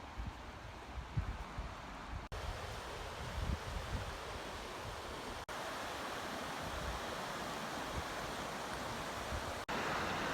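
A river rushes over V-shaped weirs at Portomarín, Spain: a loud, steady, broadband roar of flowing water that continues throughout, broken only by a few abrupt cuts, with no voices.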